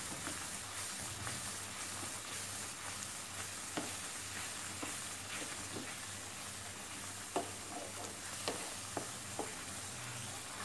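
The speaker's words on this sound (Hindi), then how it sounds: "लगातार इस तरीके से हमें चलाना है।" Mango peda mixture being roasted in a pan and stirred nonstop, a steady low sizzle broken by soft scraping strokes and a few sharper clicks of the spoon against the pan, close and continuous with no talking.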